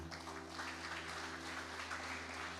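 A church congregation claps together, soft and scattered, over a steady low electrical hum.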